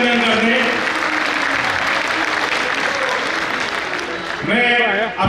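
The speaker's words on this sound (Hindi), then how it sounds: "एक बार ताली से उनका अभिनंदन कर दें।" Loud, dense applause from a gathered crowd at a padyatra event, steady clapping throughout with a voice rising over it near the end.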